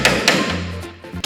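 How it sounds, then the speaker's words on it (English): Hammering on a rusted BMW E30 body panel, a few sharp metallic hits with a lower droning tone between them, close up and fairly loud. "A bit of hammering, a bit more cutting, some more hammering, until"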